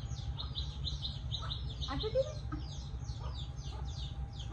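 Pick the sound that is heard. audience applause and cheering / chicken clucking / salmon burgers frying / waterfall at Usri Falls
chicken clucking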